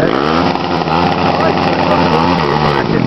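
An off-road vehicle's engine bounces against its rev limiter while the wheels struggle for traction on a loose climb at Bellthorpe. It makes a steady, buzzing, fluttering drone held at high revs throughout, with voices faintly present.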